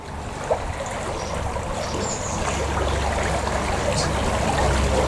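A shallow creek that once fed the moat around the town walls of Büdingen trickles and burbles steadily nearby, a continuous watery wash with faint outdoor ambience.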